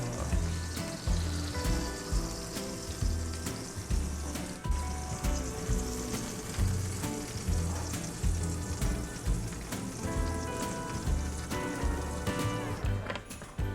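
Prime rib sizzling in a pan as it sears, a dense continuous crackle and spatter with regular low thumps from handling, close and steady for the whole stretch with no talk.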